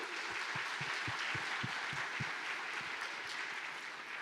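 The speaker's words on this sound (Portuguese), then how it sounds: "Eu gostaria de uma salva de palmas para todos." An audience claps together in a steady, fairly distant wash of applause that carries on throughout.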